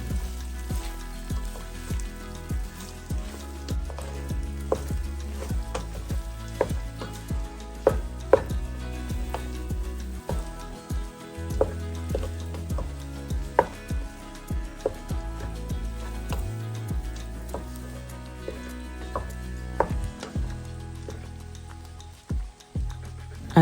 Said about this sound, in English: I'm going to be stir frying this on medium to high heat.